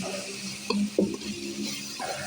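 Stir-frying in a pan with pepper, oyster sauce and pork belly, a soft steady sizzle under a few clanks and scrapes of a utensil against the pan, fairly quiet and close.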